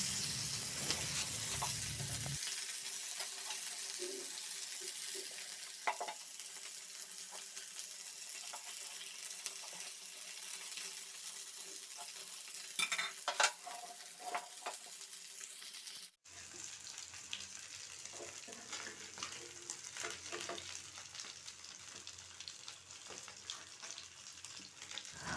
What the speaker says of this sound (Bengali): এভাবে আমি আর দুটো মাছকে উল্টে আবারও ঢেকে অপর পিঠটাকে ভেজে নেব